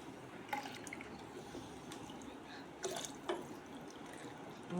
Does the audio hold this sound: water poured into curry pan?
yes